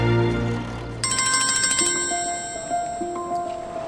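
A mobile phone rings with a bright electronic ringtone, a repeating melodic tone pattern that plays steadily and fairly loud on its own.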